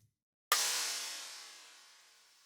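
A long reverb tail serves as the noise layer for a snare drum. A sudden bright wash of noise starts after half a second of silence, then fades smoothly over two seconds, heard alone.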